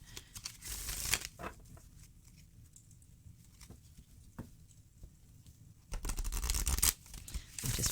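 Crisp riffling and flapping of stiff cards being shuffled, in bursts with quieter shuffling between, close by and alone.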